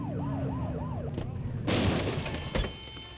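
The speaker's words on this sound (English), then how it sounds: "Get behind them and blip the siren and make them pull over" A police car siren in the video game The Precinct gives a short run of rising-and-falling wails, about four quick cycles, then cuts off into rumbling engine and street noise.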